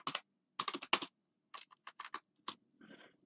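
Keys on a computer keyboard tapped in short clustered bursts to enter a command, crisp clicks separated by brief pauses, close and clear with no talking.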